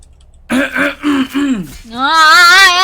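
A voice produces a short burst of fake coughing and throat clearing, close and loud, then slides into a wavering, whiny vocal sound.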